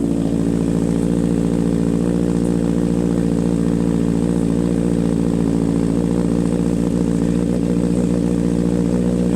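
A 2017 Honda CB650F motorcycle engine idles steadily up close, a smooth, even rumble with no speech over it.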